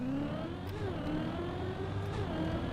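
A futuristic car in the Trackmania racing game drones steadily close up, its engine pitch sliding up and dipping as it revs and shifts gears, with no talking.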